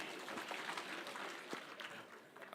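Faint, distant crowd applause at an outdoor political rally in Kirinyaga, a dense patter of many hands clapping steadily for a couple of seconds.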